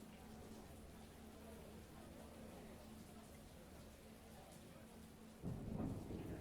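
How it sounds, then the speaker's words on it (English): Distant thunder rumbling low and steady as background ambience, faint and continuous, swelling into a louder roll near the end. "I was wondering where my background sound thunder was. Then it arrived."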